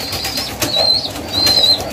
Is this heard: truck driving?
no